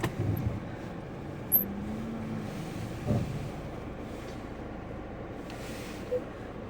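A few vehicles pass at moderate distance, brief swells of engine and tyre noise rising and fading over a quiet street background.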